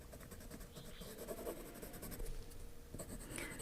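A 2B graphite pencil drawing on paper, scratching and scribbling steadily and close up throughout, fairly faint.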